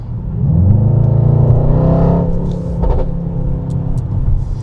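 A Mercedes-AMG GT 63 4Matic+ engine revs up loudly, a deep rumbling roar that swells, then settles into a steady throaty idle with a few brief sharper blips.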